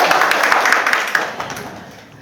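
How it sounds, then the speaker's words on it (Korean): An audience at a book forum for real estate agents applauds, with a dense burst of clapping that starts loud and gradually fades over about two seconds. "박수."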